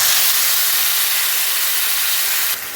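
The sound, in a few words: burnt mango pulp added to hot tempering, sizzling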